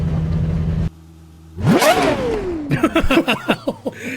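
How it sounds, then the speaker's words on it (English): A Lamborghini Aventador SVJ engine revs hard, rising to a loud sweeping scream and falling away, then clipped bursts follow as it hits the limiter, with a brief lull before the rev. "And it beeped when it hit its rev limiter."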